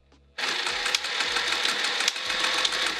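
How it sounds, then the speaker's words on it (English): Sewing machine back stitching a pillowcase seam, running in steady bursts with a brief pause, loud and close, with no talking. "Let's go to the machine. Back stitch."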